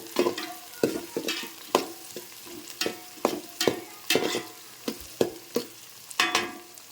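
Tomatoes, onion and curry leaves fry in a pan, with a soft sizzle under repeated sharp scrapes and taps of a spoon stirring at an uneven rhythm, close and fairly loud.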